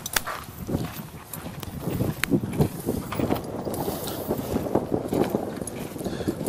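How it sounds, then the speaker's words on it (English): Hooves of a big, strong gelding being ridden in a Western horse training workout, soft irregular clip-clop steps at moderate distance over a constant outdoor background. "Now this is a big, strong gelding."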